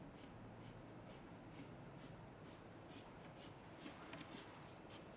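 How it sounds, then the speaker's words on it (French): A pen draws a dotted straight line across paper for a geometry construction, heard as a quiet, steady run of short scratchy dabs and strokes over a constant low background hum, with no talking. "je fais simplement une droite en pointillé. qui vient couper le segment."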